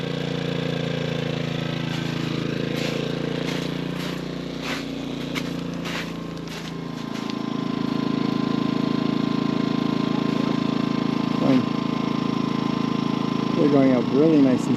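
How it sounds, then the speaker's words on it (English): Portable generator running at a campsite during Easter truck camping, a steady mid-pitched engine drone throughout, with brief voices and a rising whistle-like tone near the end. "We have our generator going"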